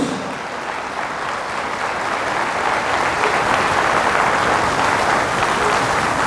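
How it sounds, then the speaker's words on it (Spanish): Loud, sustained applause from a crowd at a Catholic church retreat in Toluca, a dense steady wash of clapping that swells slightly and holds without voices on top. "Fuertes aplausos al Señor Jesús."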